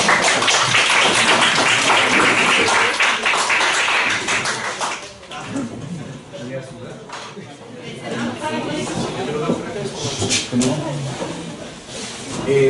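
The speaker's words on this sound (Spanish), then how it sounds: "Un aplauso. Un aplauso." A workshop audience applauds with dense clapping that fades after a few seconds into quieter room noise and scattered handling sounds, with voices briefly audible.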